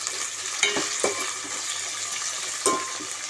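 Unpeeled potatoes dropped into a hot pan while making besan curry, giving a steady near sizzle of frying with a few sharp clatters and splashes as pieces land.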